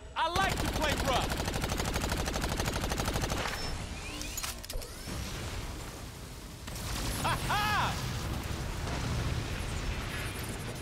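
Sustained rapid turret gunfire in the video game Agents of Mayhem, loud and continuous with bursts and brief explosive cracks, steady throughout with some game effects layered over it.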